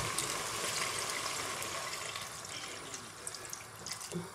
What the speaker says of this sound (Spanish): He puesto como medio litro aproximadamente de agua.